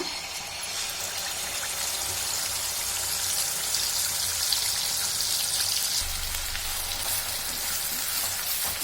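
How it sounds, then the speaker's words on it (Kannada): Ground mint paste fries in hot sesame oil for a mint pickle, giving a steady, continuous sizzle and crackle close by, with faint stirring and no talk. "ಎಳ್ಳೆಣ್ಣೆ ಸೇರಿಸ್ಕೊಳ್ಳೋಣ. ಈಗ ಎಣ್ಣೆ ಬಿಸಿಯಾಗಿದೆ. ರುಬ್ಬಿಟ್ಕೊಂಡಿರೋದು ಸೇರಿಸ್ಕೊಳ್ಳೋಣ."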